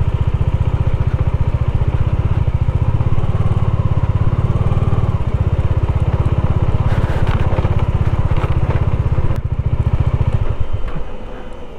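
A motorcycle engine drones loud and close on a winter off-road ride from Nako to Sumdo in Spiti, chugging steadily with some rattling before it suddenly cuts out at the end.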